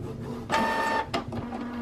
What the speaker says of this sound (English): so I printed these out